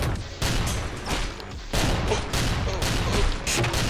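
Video game gunfire crackles in rapid volleys, loud and near, with dense overlapping shots and blasts nearly filling the stretch.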